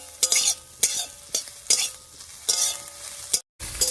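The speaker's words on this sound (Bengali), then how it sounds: "নাড়িয়ে চাড়িয়ে সয়াবিনটা একেবারে হালকা করে ভেজে নিয়েছি" Soybean chunks fry lightly in a pan with no turmeric or salt, stirred in regular strokes about every half second. Each stroke brings a bright scraping sizzle over a steady low crackle, with a brief silent gap near the end.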